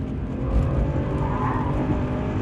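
A Toyota GT86 on a racetrack, its engine note steady and loud as it brakes and then pulls hard again, with dense low rumble and road noise filling the whole stretch.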